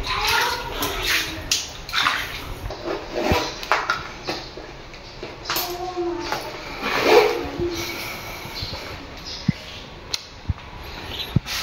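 A tap runs at weak morning pressure, a thin, uneven stream of splashing water close by, joined by clinks of metal and dishes and a few sharp pings.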